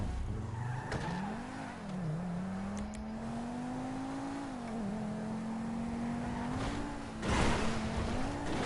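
A video-game car drives continuously with a steady engine drone whose pitch rises and dips as it shifts and accelerates, with brief tire-squeal skids near the start and a louder burst toward the end; no talking.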